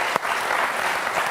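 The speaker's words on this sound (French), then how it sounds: "Ça s'applaudit, messieurs." Applause from a group at a boxing club in Lyon, a short dense burst of clapping heard up close and steady throughout, with one sharp clap standing out near the start.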